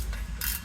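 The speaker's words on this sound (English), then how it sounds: "my ratcheting wrench fits in there, so that'll make this a little bit quicker" A ratcheting wrench clicks while tightening 11mm bolts on a 1994 Chevy K1500 drive shaft, a short close burst of rapid metallic ratchet ticks.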